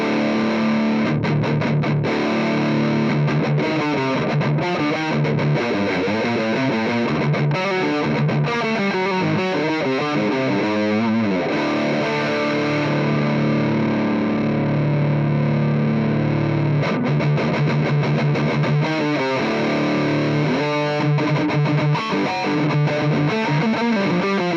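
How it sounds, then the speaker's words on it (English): Heavily distorted metal guitar riffing through a Mesa Mark V 25 on its Mark IIC+ lead channel with all controls at noon, dense and loud, sustained chugging and chords throughout with no pauses or talking. "it's from the Mark II C Plus lead channel, but with everything set to noon"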